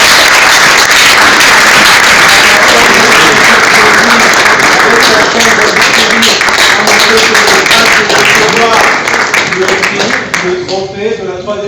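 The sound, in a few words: audience applause at award ceremony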